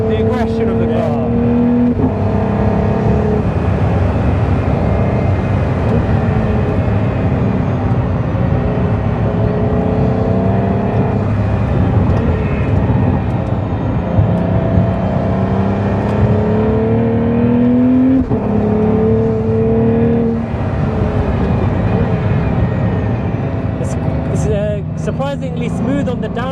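A Pagani Huayra Roadster BC on a race track revs hard through repeated upshifts and downshifts, engine pitch sweeping up and falling in loud cycles, heard from inside with voices talking over it.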